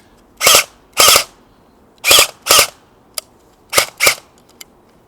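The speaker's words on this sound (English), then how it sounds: "Now we will test my RPK on a chronometer" LCT RPK airsoft gun firing single shots through a chronograph: seven sharp, loud cracks, mostly in spaced pairs, with a final faint click, all heard alone with no talk.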